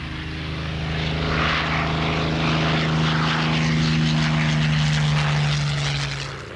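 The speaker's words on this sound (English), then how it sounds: "The Hurricane was the RAF's other main fighter." Hawker Hurricane RAF fighter plane passing by, its piston engine and propeller giving a loud, steady droning roar that swells and fades over several seconds.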